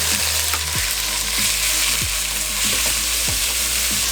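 Minced meat sizzles loudly in a hot pan with herbs, a bright constant frying hiss with a low hum beneath and a few sharp scraping stirs spaced through it.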